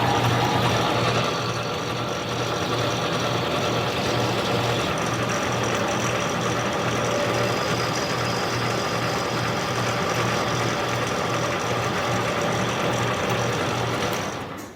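Mini lathe facing a non-ferrous metal part, a steady mechanical hum with a rapid rhythmic chatter running continuously and close for about fifteen seconds.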